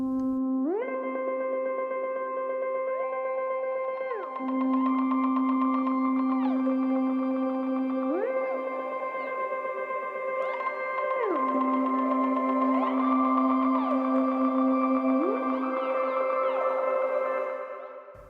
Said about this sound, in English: I bet this is going to sound cool with the lush reverb.